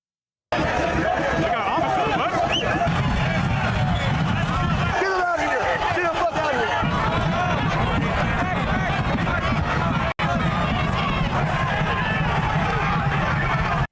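Large crowd of rioters packed on the Capitol steps among flags, a dense continuous roar of chatter, shouts and hubbub, loud and close throughout with a brief dip near the middle.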